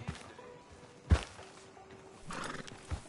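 Horse in a Western video game, with a single loud thump and clatter near the middle, a soft whinny-like rise later and quiet ambient background throughout.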